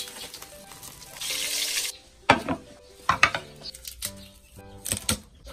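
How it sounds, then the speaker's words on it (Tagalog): Flour-coated milkfish (bangus) pieces frying in a pan, with a steady hiss of sizzling oil broken by sharp clatters and scrapes of a utensil against the pan. "Pritulin ang bangus at itabi."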